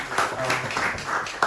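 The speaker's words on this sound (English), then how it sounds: "please give a round of applause" An audience at a data analytics talk gives a round of applause: moderate, fairly steady clapping from a room of people with scattered individual claps standing out and a sharp clap near the end.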